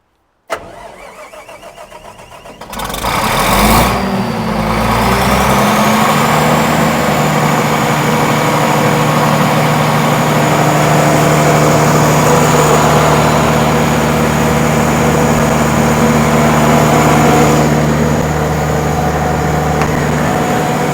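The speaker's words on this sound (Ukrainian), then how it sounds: "Давайте ще запустимо, покажемо безпосередньо генератор в роботі" A Universal generator cranks and starts after a few seconds, then runs steadily at a loud, even drone with a constant tonal hum for the rest of the clip.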